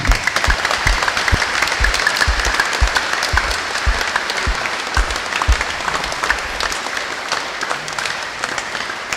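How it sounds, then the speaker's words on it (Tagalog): Steady, sustained applause from a large church congregation at an Easter Vigil, loud and continuous throughout with dense overlapping claps. "ing pekamalakas sa palakpak po"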